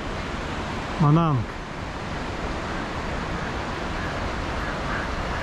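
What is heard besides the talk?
Nepalese river flowing beneath a suspension bridge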